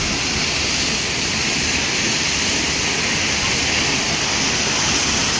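A steady, loud rush of falling water from a waterfall in Ginatilan, Cebu fills the whole stretch as an unbroken broadband roar, with no other sounds standing out.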